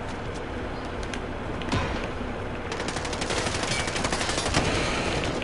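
Rapid automatic gunfire from the space probe gun in a video game, a continuous rattling stream of shots that grows denser and louder toward the end, heard alone.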